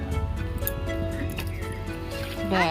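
Water poured from a bucket onto a noni plant in a garden, a continuous wet splashing and trickling with a brief gurgle near the end and a voice murmuring faintly beneath.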